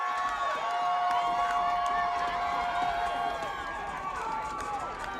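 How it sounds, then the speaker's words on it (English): A crowd at an American football game in the ACFA regular season, Carolina Red Devilz against Williamsburg Colonials, cheers loudly and steadily throughout, a sustained roar with whistles and shouts mixed in. "seems like the crowd's finally getting into it"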